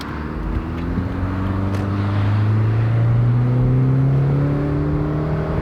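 A Subaru car with a CVT accelerates out of a corner, its engine note rising in a smooth, steady drone that climbs in pitch over several seconds, loud and close with no talk.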